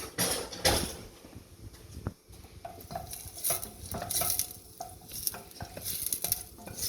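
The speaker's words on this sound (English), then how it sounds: "So then I've got a quarter of onion, which I've diced up. Just going to let that cook for a little bit." Diced onion frying in a pan while being stirred, with a steady sizzle under repeated scrapes and clinks of a utensil against the pan.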